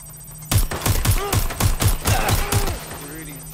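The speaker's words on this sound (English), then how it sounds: "Shots fired! I need a hand here!" Rapid gunfire in Watch Dogs: Legion, about ten sharp shots in quick uneven bursts, loud and close, ending with a fading ring.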